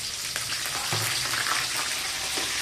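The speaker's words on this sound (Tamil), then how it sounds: "பச்சை மிளகாய் போட்டு வெங்காயம் போட்டுக்கலாம்." Onions, green chilies and curry leaves fry in hot oil with a loud, dense, continuous crackle and sputter close up, without any voices.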